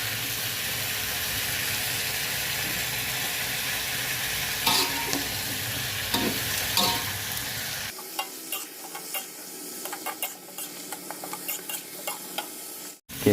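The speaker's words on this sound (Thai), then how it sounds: "ผัดด้วยไฟแรง ให้ผักเราสุกทั่ว ๆ" Cabbage shoots are stir-fried over high heat in a pan, with a loud, steady sizzle under repeated stirring and scraping. The hiss drops away partway through, leaving quieter intermittent clatter of the utensil against the pan.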